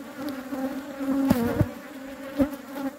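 Honeybees buzz around apiary hives during a hive inspection, a close, wavering drone with individual bees swelling louder as they pass near.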